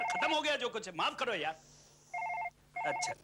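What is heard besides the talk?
telephone ringing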